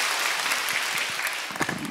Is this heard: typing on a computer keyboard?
no